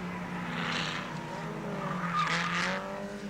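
Production touring cars race at Warwick Farm Raceway in Sydney in 1970, with engines roaring past at mid distance and tyres squealing loudly in two bursts as the cars corner, and no voices over the racing.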